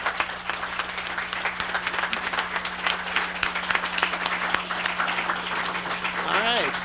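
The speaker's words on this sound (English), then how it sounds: "let's give him another round of applause" Audience applause at a 1999 WCAT annual meeting and awards event, dense sustained clapping from a crowd lasting several seconds, loud and close, with a voice briefly over it.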